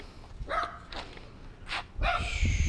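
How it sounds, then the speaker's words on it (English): A dog barks close and loud in a few quick bursts of sharp barks and yips, with short pauses between them. "So we have a barking dog that's a test."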